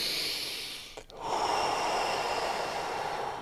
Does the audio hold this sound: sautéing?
no